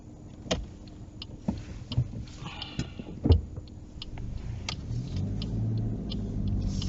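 A car on a driving test pulls away: a few scattered clunks and clicks inside the cabin, then a low engine rumble building steadily as it drives off, close and moderately loud, with no talking.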